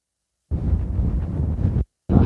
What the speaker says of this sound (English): Wind's in my face